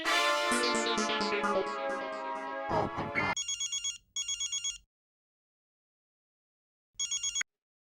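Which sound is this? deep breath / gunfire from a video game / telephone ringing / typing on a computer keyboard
telephone ringing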